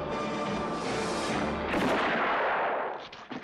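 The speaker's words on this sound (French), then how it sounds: "au moment où les coups de feu sont tirés." A loud, sustained barrage of gunfire and booming blasts in a film shootout scene, dense and overlapping, then cutting off abruptly into a few scattered sounds.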